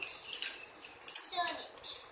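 A toy spoon stirs and clinks inside a small toy pot during children's kitchen play, giving light, quick scrapes and a couple of brighter taps, faint and close.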